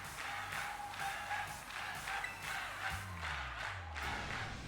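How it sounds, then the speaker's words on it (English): A video game crowd cheers and chants in rhythmic waves, sounding moderately loud and somewhat distant over a low, pulsing music bed, with a falling synth tone near the end. "This crowd's so loud it could wake the dead."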